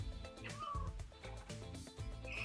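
A cat on a scratching post meows a few times, nearby and fairly quiet, with soft background noise between the calls.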